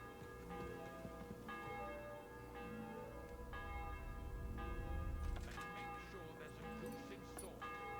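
A church bell rings repeatedly in the medieval world of the game Kingdom Come: Deliverance 2, its steady tolls sounding at moderate distance beneath game music and a busy background, with voices briefly speaking over it.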